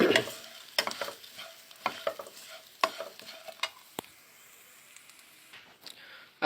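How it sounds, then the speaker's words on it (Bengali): Flattened rice (chira) frying in a pan, with irregular close scrapes and stirring clatters over a light sizzle that fades toward quiet near the end. "চিরা কিন্তু প্রায় ভাজা ভাজা হয়ে আসছে"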